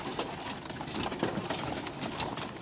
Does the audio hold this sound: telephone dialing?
no